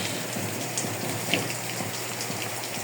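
A steady, hissing spray of water from a leaking pipe under high pressure runs without pause, like a constant pressurized jet, with a few faint drips and taps over it.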